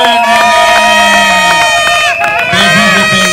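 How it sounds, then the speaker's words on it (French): Guests at a civil wedding ceremony cheer the couple with loud, sustained joyful cries. High ringing voices and ululation-like calls sit close over a lively crowd, with talk mixed in. "Acclamez les couples très fort avec des cris de joie."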